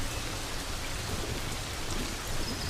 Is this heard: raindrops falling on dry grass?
yes